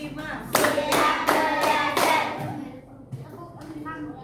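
A class of children claps in unison in a few sharp, rhythmic bursts, followed by quieter scattered taps as a young voice murmurs nearby.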